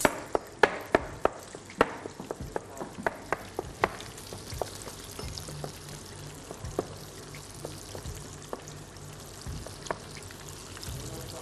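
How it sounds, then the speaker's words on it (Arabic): Chopped meat frying in a pan, a steady close sizzle broken by sharp clicks and taps of a utensil against the pan, with no talking. "الحين ابو سعد يقلي"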